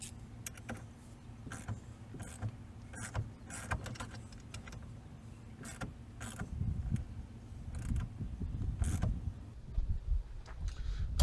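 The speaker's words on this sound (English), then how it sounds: "center the puller, and you use a ratchet on this and it lifts it out" Ratchet turning a steering wheel puller to lift the wheel off a Jeep TJ steering column, giving a run of sharp clicks and creaks at a close, steady rhythm over a low hum.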